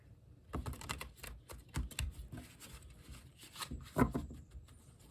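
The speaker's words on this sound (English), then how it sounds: "Let's do some shuffling, of course." Tarot cards are shuffled in a series of quick, soft riffling and tapping bursts, close by and fairly quiet, with brief pauses between.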